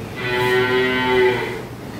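A cow on a dairy farm gives one loud, sustained moo lasting over a second, close by, with no talk.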